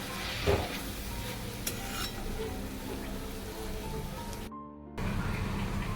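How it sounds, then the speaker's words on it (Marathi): Spoon or spatula stirring kurdai mixed with onion in a hot pan, with soft continuous sizzling and scraping and a few sharper scrapes against the pan. There is a brief dropout before the scraping resumes. "छान असं मिक्स झालं की कुरडे टाकून घ्यायची आपल्याला मिक्स करून घ्यायची"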